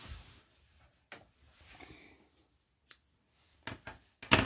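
Scissors snip string on a handmade deckle-edge Christmas card, a few sharp, close cuts spaced apart with quiet handling between them and no talking.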